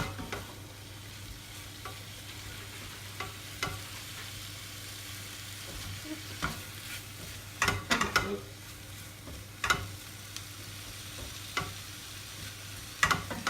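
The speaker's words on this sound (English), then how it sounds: "I'm just going to mix it through my peppers and onions" Roast beef stirred with peppers and onions in a pan, soft steady sizzle under repeated scraping and clinking strokes of a utensil, close and fairly quiet, with no voices.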